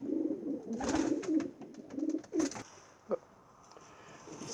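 A domestic racing pigeon coos in repeated low, throaty phrases at close range, joined by a few soft rustles and a brief sharper sound near the end, with no talking.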